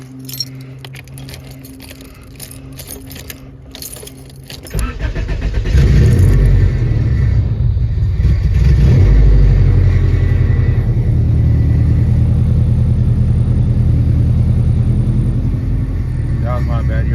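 Keys jangle before a Honda EJ1's engine cranks and catches on a cold day, then settles into a loud, steady close-up idle with a slight rise in revs, and a voice is heard at times.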